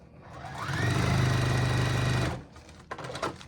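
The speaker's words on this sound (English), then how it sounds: "And I'm just going to do a little seam." A sewing machine stitches a short seam through quilt fabric, whirring at steady speed for about two seconds before stopping, followed by a few faint handling clicks.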